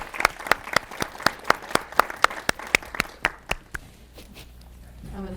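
A run of sharp, separate claps, about a dozen spaced evenly and fairly close, welcoming a speaker at a celebration event, then trailing off into quiet room tone near the end.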